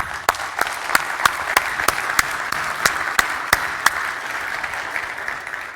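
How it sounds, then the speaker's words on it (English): A conference audience applauds after an Android Makers talk, with dense clapping punctuated by several sharp, louder individual claps at a steady rhythm throughout. "please join me and let's applaud"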